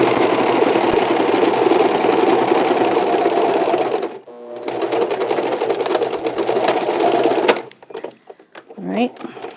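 A sewing machine stitches face mask fabric, running loud and continuous up close for about four seconds, pausing briefly, then running again before stopping; handling noises and a short high sound follow near the end.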